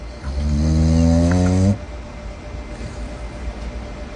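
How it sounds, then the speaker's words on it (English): A big raccoon snores in a garage, giving one long, droning, buzzy breath that stops abruptly and leaves low background noise. "Here we got a raccoon snoring in this man's garage."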